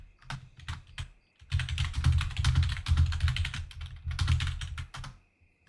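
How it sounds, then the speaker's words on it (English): Rapid clattering keystrokes on a computer keyboard come in short bursts, then longer runs of dense typing separated by brief pauses, close and clear with no voices. "if you can see what I'm typing there"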